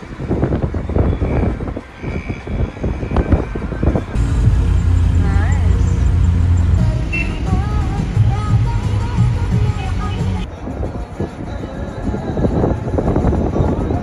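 A car drives through Cairo, with continuous road and engine rumble from inside the cabin, passing traffic noise, and a voice talking over it.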